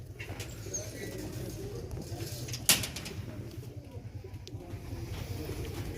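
Pigeons coo in low, throaty repeated calls close by, with a sharp brief knock partway through and faint background bird chirps.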